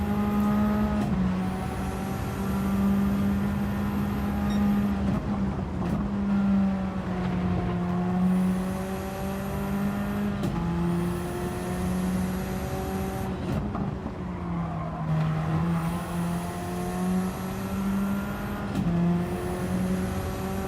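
Race car engine drone from a sim racing video game, steady loud whine with repeated gear-shift pitch drops as cars run close together, no talking.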